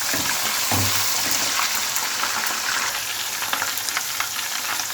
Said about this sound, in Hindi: इसलिए पहले हम इसको ऑयल में फ्राई करेंगे ताकि ये अच्छी तरह गल जाए।